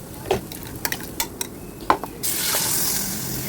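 A spoon scrapes and taps as chili powder, coriander and fenugreek spices are stirred in a hot curry pan, with sharp clinks at first, then a steady loud sizzle that takes over.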